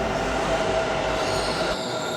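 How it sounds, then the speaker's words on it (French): A metro train pulls into a station in India with a loud, close rumble of wheels on rail and a steady metallic screech, cutting off abruptly near the end. "My train is here."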